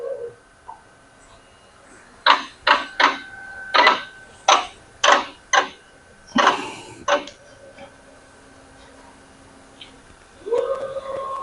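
A Ricoh Ri 4000 DTG printer printing on jeans gives a series of about a dozen sharp mechanical bursts in an uneven rhythm, with a steady electronic hum beneath and a final whirring movement.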